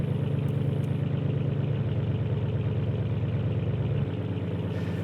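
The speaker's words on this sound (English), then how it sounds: "I really genuinely hope you can hear me over the sound of this American muscle car style engine" A rumbling American muscle-car-style V8 engine from a racing video game idles steadily and loudly throughout, a deep, even drone that drops slightly in level near the end.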